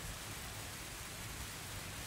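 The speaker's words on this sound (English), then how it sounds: "The pouring wind and rain is the first thing to greet you rather harshly." Wind-driven pouring rain of a harsh storm, a dense, steady roar of broadband noise with no breaks, fairly soft and continuous throughout.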